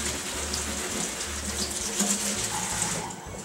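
Kitchen tap water runs steadily over a tea strainer in a sink, a continuous close hiss and splash throughout, with no speech.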